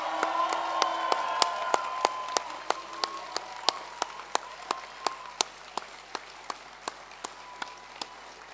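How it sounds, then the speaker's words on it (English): A graduation audience at an aviation and security ceremony gives a steady round of applause with some cheering, the clapping gradually thinning into distinct single claps toward the end, heard from within the hall. "Once more, a cheer and a round of applause."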